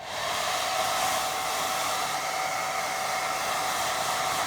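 A hair dryer blows steadily and close by for several seconds, a constant whooshing drone used to dry layers of a watercolour painting.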